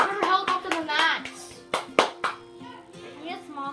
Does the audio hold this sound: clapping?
yes